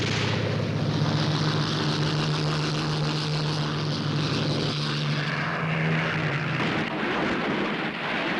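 World War II Allied propeller fighter planes, Spitfires and Thunderbolts, taking off in a rush, a loud continuous engine drone with steady propeller hum roaring close for several seconds, no voices.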